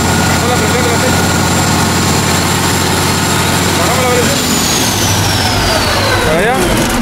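A Genpack 150 kW generator set with a Cummins 6CTA8.3 engine runs just after starting, a loud, steady close-up drone with a whining tone that shifts pitch partway through, with no talk over it.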